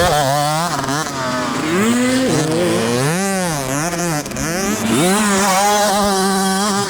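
A dirt bike engine while riding, revving up and down continuously with shifting pitch, loud and close, with no talk over it.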